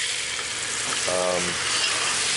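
A ladle of homemade vegetable stock, made with carrots, onions, herbs and spices, hits the browned bits in a hot Dutch oven, giving a loud, steady sizzle that carries on evenly with a brief tonal squeal partway through.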